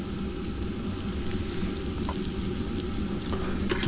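Food simmering in a pot on a stove inside a tent during a winter storm, giving a close, continuous bubbling sizzle with a few small pops and no talking.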